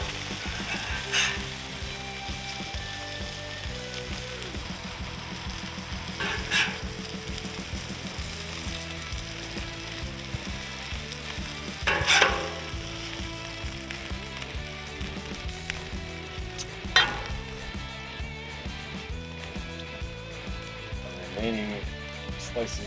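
Burger patties sizzle steadily in a hot pan for a patty melt sandwich, a constant crackling fry with a few sharper pops and clatters, while people talk over it and music plays underneath.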